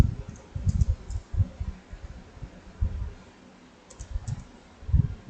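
Code being typed on a computer keyboard: irregular bursts of soft, low clicking keystrokes up close, with brief pauses between clusters and no talking.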